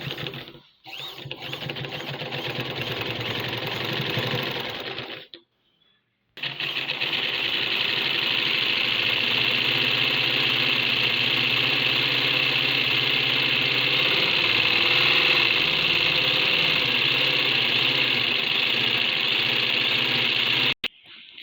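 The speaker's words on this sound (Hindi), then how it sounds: "इसी निशानदही के ऊपर हम लोगों ने सिलाई लगा लेनी है और कमर की सिलाई को कंप्लीट कर लेना है" A sewing machine stitches the waist seam of a kurta, running in a steady loud mechanical whir for several seconds, pausing briefly, then running continuously again for a long stretch.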